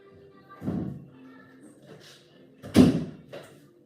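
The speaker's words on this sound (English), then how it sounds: "he was just slamming doors and being silly" Indoors, a boy slams doors: two separate heavy bangs about two seconds apart, each followed by a brief rattle, heard at moderate distance in a quiet room.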